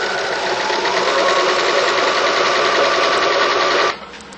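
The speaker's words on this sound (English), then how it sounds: "sew down right along the folded edge." A sewing machine stitches along a folded fabric edge, a loud, steady rapid whirring chatter running for about four seconds before stopping abruptly, leaving a quieter hum.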